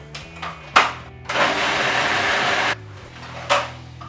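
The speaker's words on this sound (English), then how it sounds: "you can add it into your food processor. And blend away." Food processor blending edamame hummus, a brief start then a loud steady whir of about a second and a half that cuts off, framed by clunks and short spurts.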